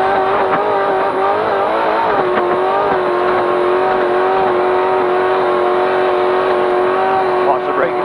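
A spec trophy truck races, heard from inside the cab: a loud, steady engine drone holds a sustained pitch throughout, with rattles and bumps over it and a voice speaking along the way.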